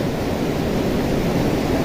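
Kedung Kayang waterfall roaring into a river of murky water, a dense, unbroken wash of loud rushing noise heard up close.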